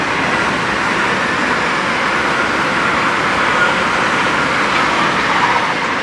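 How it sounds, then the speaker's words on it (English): A passing train heard at night from a fishing lake: a steady, broad rushing rumble at even, fairly loud level throughout, with no talking. "that's a train"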